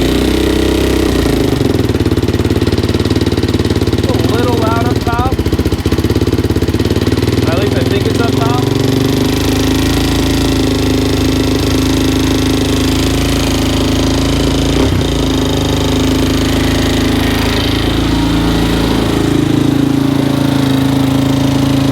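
A Suzuki LTZ 400 ATV engine idles steadily up close, a continuous rough mechanical drone with a ticking, noisy valve train at the top end, and brief faint background sounds over it.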